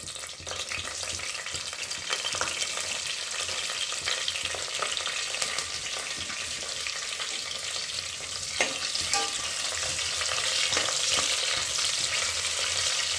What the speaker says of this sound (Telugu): ఇప్పుడు మనం పచ్చిమిరపకాయలు వేసుకుందామండి